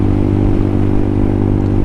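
A small, slow motorcycle being ridden, its engine a steady, loud, close low drone with a continuous rumble and no audible talk.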